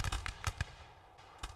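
Cannon fire in the Revolutionary War sandbox game Rise of Liberty: a rapid string of booming blasts, then a pause and one more shot, loud and close with sharp attacks.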